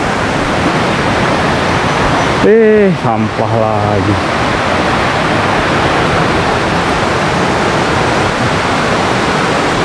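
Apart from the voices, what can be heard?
waterfall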